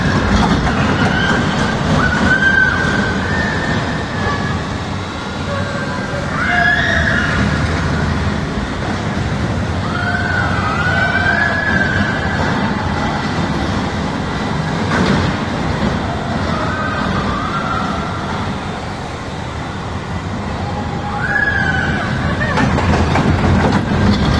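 A small amusement park ride train rumbles past with rolling wheel noise and recurring high metallic squeals from the wheels, loud and continuous, with some voices faintly underneath.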